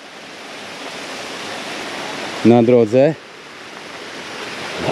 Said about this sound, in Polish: I ten hałas wody, szum wody spadającej z tych małych, dzikich wodospadów.